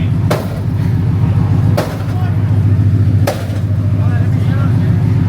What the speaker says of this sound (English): He's got a big sledgehammer out. It's a persuader.